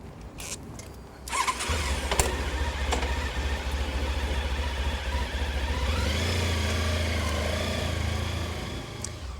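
A Honda ST1300 Pan European motorcycle's 1300 engine cranks and catches, then settles into a steady, close idle with a low rumble that swells slightly midway.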